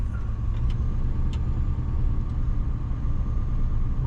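A 2006 Chevy 2500 HD truck engine idles while warming up, giving a steady low rumble with a faint whine above it that holds evenly and close throughout.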